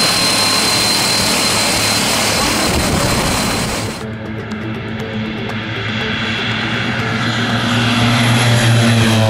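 Loud, steady roar of an airplane engine and rushing wind during a skydive jump, with a sudden change in tone partway through as the open-door blast gives way to a deeper droning hum.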